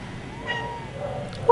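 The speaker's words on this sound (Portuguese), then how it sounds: "Oi, Snowzinho, meu gato aqui." A pet cat gives a few soft, rising meows up close in a quiet room, ending on a brief louder, sharper call.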